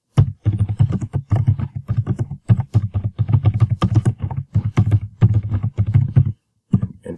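A computer keyboard is typed on in a quick, steady run of loud, close key clicks, a near-continuous patter with a brief pause before a few final taps.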